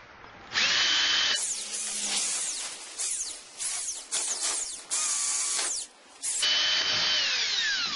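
Power drill boring holes into a planter box, loud close bursts of whining motor starting and stopping several times with short pauses between runs.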